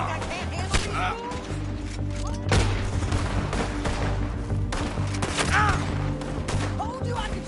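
Gunfire in the Red Dead Redemption II video game, with a dense run of sharp shots and bangs cracking through a busy battle mix while voices speak over it.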